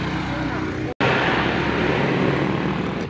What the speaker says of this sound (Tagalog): Test niya ang kanyang motor.